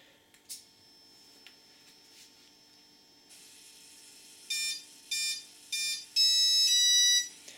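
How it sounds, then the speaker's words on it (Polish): KDS 450SD RC helicopter powering up after the battery is connected: faint clicks first, then a run of short, bright electronic beeps in a quick pattern, ending in a longer double-tone beep, all close and clear. "po podłączeniu zasilania, kilka standardowych, tradycyjnych piknięć, zalogował się model bez żadnych problemów"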